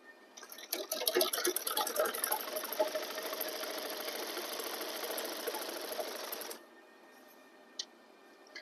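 A sewing machine stitches a kurta placket in a steady fast close-up whir of needle strokes for several seconds, then stops, followed by a brief click.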